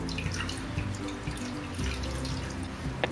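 Water splashes and trickles steadily from a kitchen tap over freshly made chhena, a soft running and dripping sound that continues alone at close range for a few seconds.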